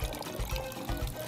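Water pours from a hand-sensor tap onto hands being washed in a kitchen, a steady broadband splashing stream with slight pulsing as the hands move under it, close and fairly loud, with no talk.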